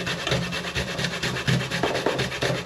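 Dry kola nut (bissi) grated by hand on a grater, a steady rhythmic rasping with repeated back-and-forth strokes, close and loud, with no talk.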